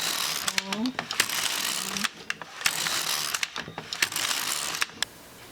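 An LK150 knitting machine carriage knitting plain rows of a sock, making quick rattling, clicking mechanical passes back and forth with sharp clacks, close up, with a voice speaking briefly between passes.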